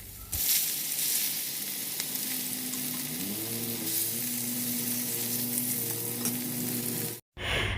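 Steady, loud sizzling of fish frying in oil, a continuous crackle that runs almost without a break and then cuts off abruptly near the end.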